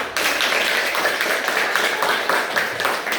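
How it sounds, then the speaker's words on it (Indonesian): A classroom of pupils in a religious studies lesson claps hands together in a lively burst of uneven, overlapping claps that carries on for a few seconds. "Coba tepuk tangan lagi buat."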